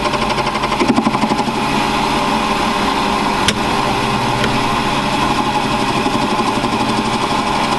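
A metal lathe skims the outside diameter of a workpiece while making a flycutter, giving a steady, continuous mechanical whir with a faint tick partway through and no talking.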